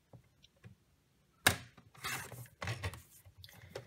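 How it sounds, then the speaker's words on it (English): A paper trimmer cuts through a sheet of paper close by, giving a sharp click followed by short rasping slides of the blade, fairly quiet with small pauses between strokes. "So I'm going to pull in the paper trimmer and just go to the 1/2 inch mark and cut from the top"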